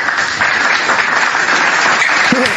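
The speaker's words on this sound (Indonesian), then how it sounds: "Tepuk tangan dulu untuk Bang Suma." An audience at a religious talk bursts into loud, sustained applause, dense clapping that fills the room evenly for a few seconds.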